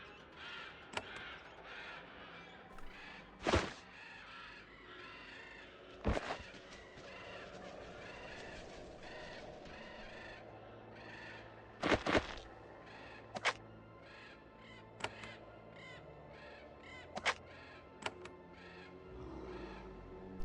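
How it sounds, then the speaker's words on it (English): Crows caw in the video game Geneforge 2, several sharp calls spaced irregularly over a steady, faint ambient bed. "there's a lot of birds here."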